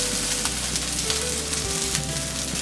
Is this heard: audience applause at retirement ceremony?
no